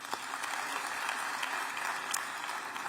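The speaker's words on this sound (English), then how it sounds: "Let's please give her another round of applause." Moderately loud audience applause at an event announcing matric results, an even wash of many hands clapping steadily for the whole few seconds.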